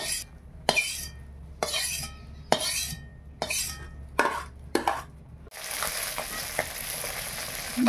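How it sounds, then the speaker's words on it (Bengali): Bata fish frying in a pan, heard as a steady hot-oil sizzle with repeated sharp clinks and scrapes of a spatula against the pan, close and loud, then a denser, continuous sizzle in the final seconds. "বাটা মাছটা ভেজে নিচ্ছি"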